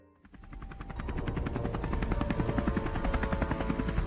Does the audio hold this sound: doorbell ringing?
no